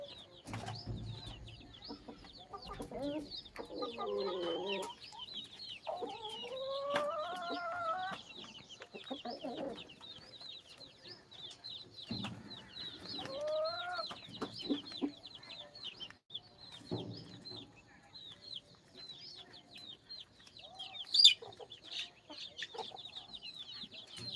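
Free-range country chickens on a farm cluck and call all around, several birds close by with soft, irregular clucks and a few longer calls over a constant faint background of distant birds, with no talking.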